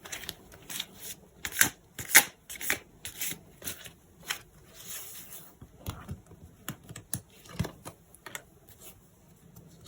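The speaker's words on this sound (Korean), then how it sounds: "한번 카드를 뽑아보도록 할게요." Tarot cards being shuffled and drawn for a love reading, giving a string of crisp riffling flicks and soft slaps in irregular bursts, close and fairly quiet, with no talking.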